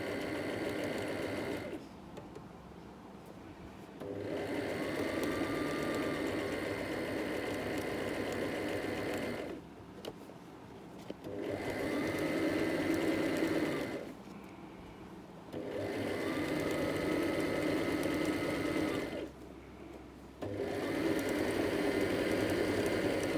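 A sewing machine stitches hair wefts, running in long steady buzzing bursts of several seconds with short pauses between passes.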